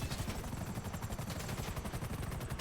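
Rapid automatic gunfire from GTA 5 Online, a continuous fast burst of shots, loud and close, with no pauses.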